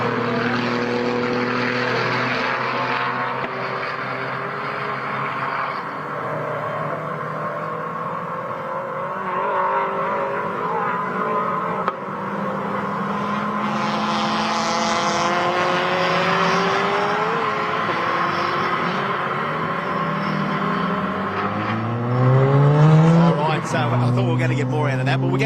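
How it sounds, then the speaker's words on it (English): Honda VTEC-engined race car at full throttle during WTAC time-attack laps, a loud sustained engine note with rising and falling harmonic sweeps through gear changes, while a commentator talks over it. "let's just let this VTAC sing the next couple of laps"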